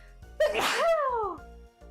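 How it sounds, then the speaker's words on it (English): A single sharp, close sneeze bursts out with a quick breathy onset and a trailing vocal tail, loud against a quiet room. "I feel like I'm gonna sneeze"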